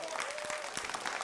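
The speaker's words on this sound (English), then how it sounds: "Shall we give them an applause and encourage them" A short stretch of steady audience applause for two well-matched teams at a quiz contest, a dense even patter of clapping throughout.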